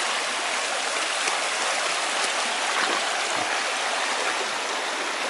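Continuous broadband rushing of a river flowing outdoors at a bushcraft camp, a loud, steady wash without pauses or talk.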